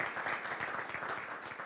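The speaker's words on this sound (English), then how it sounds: "let's give them a round of applause." Conference audience applauding speakers and keynotes, a moderately quiet but steady patter of many hands clapping in a large room, with no talk over it.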